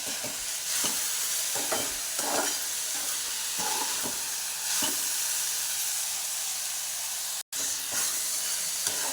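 Moth bean (matki) curry sautés in a pan, a steady soft sizzle with intermittent scraping stirs and a brief gap, no talk.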